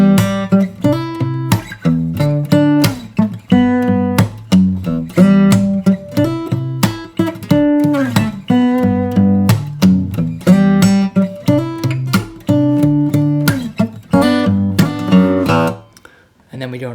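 Verse of a song played fingerstyle on guitar, with plucked bass notes and melody ringing out in a steady rhythmic pattern, close and clear, ending as the last chord fades.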